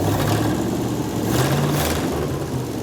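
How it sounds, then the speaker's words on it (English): A 1957 Chevy V8 engine, running again after decades of sitting and still smoking a little, revs steadily and loudly up close, a continuous rough mid-range drone with a slight swell partway through. "Yeah, give it a little rev, see if it smokes."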